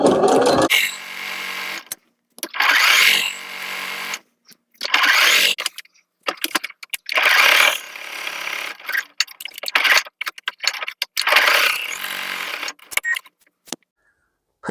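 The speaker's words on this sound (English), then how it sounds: "For the straps, I'm just folding the fabric in half and just sewing it." Sewing machine stitching folded fabric for apron straps, running in short bursts of rapid whirring separated by pauses, close and fairly loud.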